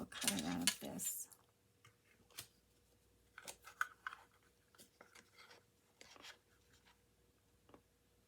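Scissors snip through a spare scrap of paper: a loud burst of close cutting and rustling up front, then scattered faint snips and paper handling, with a soft voice now and then.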